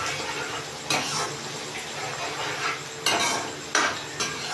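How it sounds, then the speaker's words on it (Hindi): Ground and whole coriander and other spices are stirred together in a bowl for beef kofta, giving soft scraping clinks with a few sharper knocks of a utensil against the dish. "अच्छी तरह मिक्स कर लेंगे"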